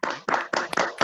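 Crowd applause at a Modicare business event: a quick run of sharp, loud, close hand claps in rapid bursts, with no talking over it.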